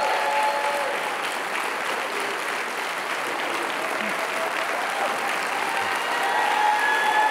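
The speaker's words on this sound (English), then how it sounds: "Let's give him a great big hand clap." A church audience claps for a guest speaker, a steady, dense wash of applause that holds evenly for several seconds, with faint voices mixed in.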